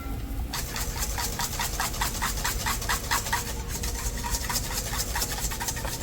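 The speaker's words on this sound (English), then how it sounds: "Continue whisking." An egg yolk mixture for a dessert eggs Benedict is whisked by hand, a fast even train of scraping strokes in a bowl that keeps on without a break, close and with no talking.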